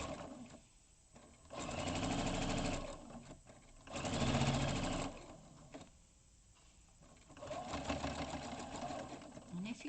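A sewing machine stitches fabric for a rice-bag-style gift bag, running in three or four steady buzzing bursts with short pauses between them. The sound is fairly quiet and close, and a voice speaks faintly in the gaps.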